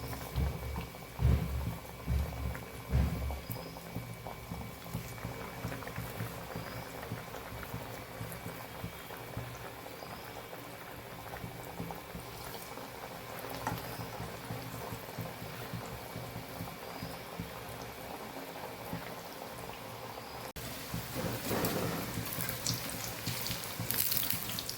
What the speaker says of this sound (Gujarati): તેલ આપણે ગરમ થવા રાખી જ દીધું છે અને એમાં આપણે ઉમેરતા જશું આવી રીતે